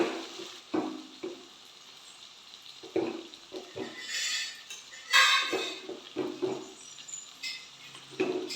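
A spoon stirring chili powder into lentils frying in oil in a pan, with intermittent scraping and clinking of utensil on metal at close range, irregular strokes separated by short pauses.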